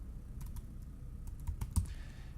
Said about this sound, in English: I'm going to just click in here and start typing